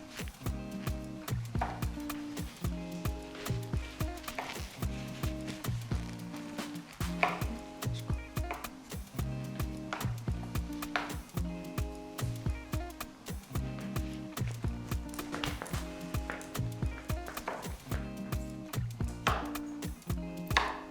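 Rapid rhythmic knife chops on a cutting board as vegetables are cut into small bits for Nigerian efo riro stew, a steady close-up tapping that runs for the whole stretch with no talk.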